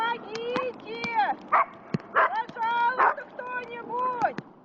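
A dog trapped with a woman on thin river ice during a spring flood rescue exercise barks and yelps repeatedly, loud and close, in an excited, whining run with some background noise.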